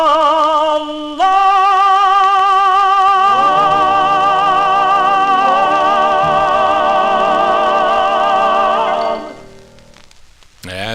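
A 1953 Federal label 78 RPM record of a vocal group singing a ballad: a sustained vibrato vocal over backing, with steady surface hiss, fading out near the end.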